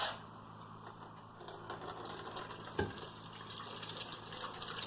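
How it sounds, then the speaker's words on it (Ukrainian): Water poured from glass jars through a perforated lid into a container, a soft running trickle with a brief splash partway through, faint and close. "накриваємо з дірочками кришечкою і виливаємо у ємність"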